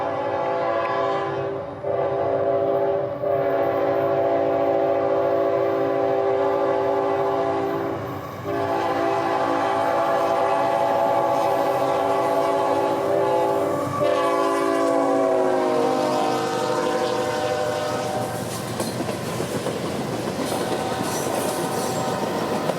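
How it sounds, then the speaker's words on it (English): Freight train M453 rolls south on a Florida main line, its horn blaring in long sustained blasts over the rumble and clatter of the cars. Wheels squeal near the end as the horn stops and the rolling noise carries on. "M453 would be the train in question, heading south set to meet another train at Dade City."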